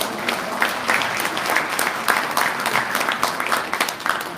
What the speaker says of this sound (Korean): 여러분 큰 박수를 보내주시기 바랍니다.